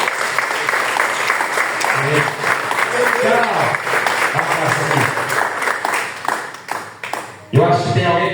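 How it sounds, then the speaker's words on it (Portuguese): A church congregation at a family evening service breaks into sustained applause, a dense wash of clapping that swells and fades. A voice speaks briefly over it. "Vamos aplaudir o Senhor Jesus."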